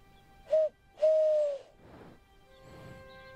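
A voice imitates an owl: a brief hoot followed by a longer, sustained one, then soft rustling and faint background noise.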